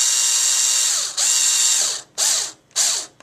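A power tool spins to unscrew a part on a mini lathe, giving a loud whirring drone that runs steadily, stops, then comes back as two shorter bursts, with a ratcheting mechanical edge.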